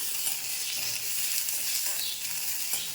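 Onion frying in a pan with cinnamon, black pepper and cloves gives a steady, close hissing sizzle that runs evenly for a few seconds.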